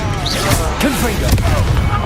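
A Confringo blasting spell explodes during a busy Hogwarts Legacy duel, with several sharp, crashing bursts over a constant rumble of combat effects and character voices calling out.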